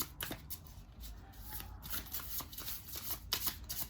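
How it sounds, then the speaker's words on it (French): Blood Moon tarot cards are shuffled close by, giving soft, quick riffling and flicking of the deck over a few seconds at low volume, with no voices. "J'ai envie de vous faire un petit tirage avec le Blood Moon"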